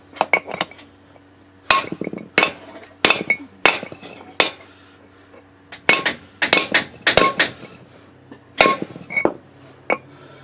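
Sharp metallic hammer strikes knock a brake rotor onto the lug studs of a 1987-96 Ford F-150 or Bronco, landing in irregular bursts, several blows in quick clusters with pauses between, close and loud with a ringing clank.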